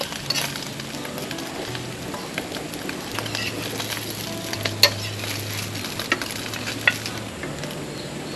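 Noodles frying over a strong flame, a steady hissing sizzle with scattered crackles and pops, close and continuous with a faint low hum underneath.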